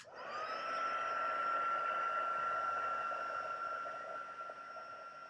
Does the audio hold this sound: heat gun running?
yes